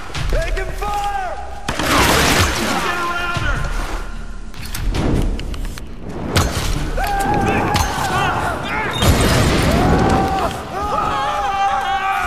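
Gunfire in the Tomb Raider (2013) video game: loud bursts of shots and heavy thuds come in waves amid chaotic combat noise, with voices shouting over it.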